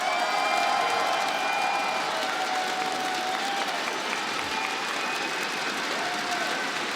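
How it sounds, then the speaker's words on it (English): Loud, sustained applause and cheering from a live crowd at a Rainbow Six Siege Year 8 panel presentation, continuous throughout with scattered whoops rising above the clapping. "I mean, Alex, you're hearing the crowd, you're hearing the excitement."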